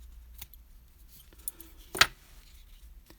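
Scissors snip through crochet yarn in one crisp, close cut after a couple of faint handling clicks in a quiet room.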